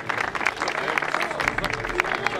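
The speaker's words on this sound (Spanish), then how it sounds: "Un aplauso a nuestro líder." An outdoor crowd at a 5 km race during union sports games claps for their leader, with a burst of mixed applause and cheering overlaid by voices and a low rumble of wind or traffic.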